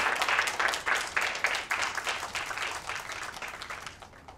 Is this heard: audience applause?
yes